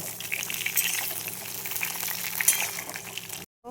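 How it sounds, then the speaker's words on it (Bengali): Pieces of pointed gourd sizzle lightly in a pan, a bubbling, watery frying hiss with small crackles held close and steady before it cuts off abruptly at the end. "এবার পটলগুলো আমি হালকা করে ভেজে নেব।"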